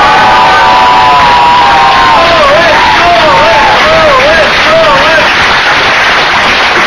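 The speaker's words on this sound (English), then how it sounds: "Give a big applause for yourself right now" A large concert crowd roars and cheers without a break, loud and dense throughout, while whistles rise and fall above the din.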